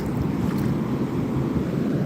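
Ocean waves on a beach at night, heard as a continuous low roar of surf with wind buffeting the microphone, loud and steady with no talking.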